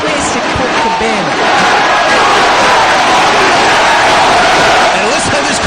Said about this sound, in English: listen to this crowd in Detroit, appreciative of the athletic prowess of one Colt Cabana